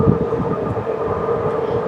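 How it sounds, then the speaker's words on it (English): A train going by close at hand, a loud, steady rumble of rolling wheels and clattering wagons with a droning tone, continuous for the whole moment with no voices. "We're gonna wait for the train to go."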